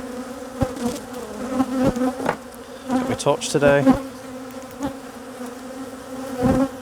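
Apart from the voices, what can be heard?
honey bees buzzing around an open hive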